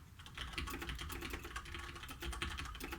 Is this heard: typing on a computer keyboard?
yes